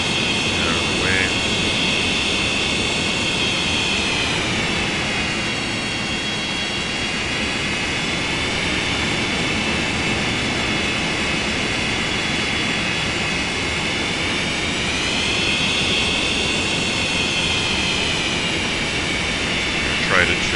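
A Citation X business jet taxis in a flight simulator game, its engines holding a steady, loud whine and roar throughout, with the pitch swelling gently twice, and no other sounds standing out.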